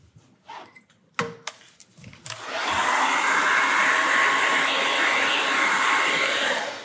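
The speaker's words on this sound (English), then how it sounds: "I'm still gonna have to blow dry. Let me do that real quick." A hair dryer blows on freshly stenciled paint on a housewarming gift; after a few handling clicks and knocks it switches on and runs as a steady, loud, close whooshing drone for about four seconds.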